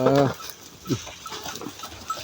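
Goats bleat on a farm in Nepal, one loud close bleat at the start followed by softer scattered calls and shuffling in the pen.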